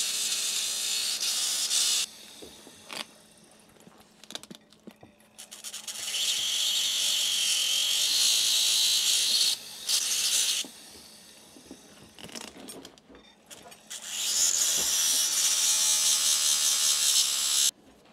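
A heavy rotary power tool fitted with a flapper burr grinds a ski boot sole in several long, close bursts of loud abrasive rasping and hissing, separated by quieter pauses of handling noise.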